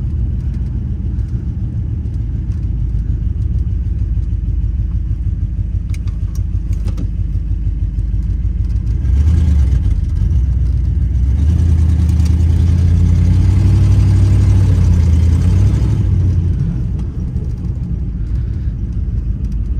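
A 1957 Ford Fairlane 500 Town Sedan with a 292 Y-block V8 heard from the cabin on a drive, a loud, steady engine rumble that swells as it accelerates midway, then settles back, with no talk.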